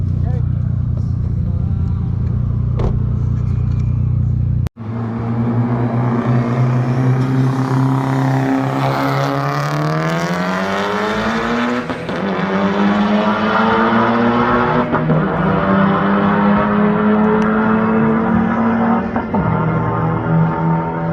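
A Honda Civic Type R and a Honda Accord run a roll race in third gear, with a loud engine drone climbing through rising revs after a sharp break, close and continuous, with a voice talking briefly over it.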